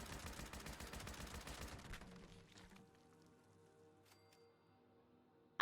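Fast rattling gunshots from the video game Fallout 76, rapid and fairly loud for about two seconds, then fading to quiet with a few faint thumps and one sharp knock at the very end.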